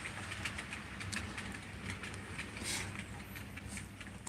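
A model Class 90 train runs straight across a double slip set of points, giving a steady rolling rumble broken by light clicking and clattering as the wheels pass over the rail joints, fairly quiet and continuous.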